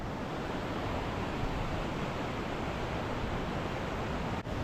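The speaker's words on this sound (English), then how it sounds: "still nice to have the sound of the river to sleep to." A river flows steadily beside a campsite among the Norwegian fjords, a continuous broadband rush of water close by with no voices, holding even throughout before a brief dip near the end.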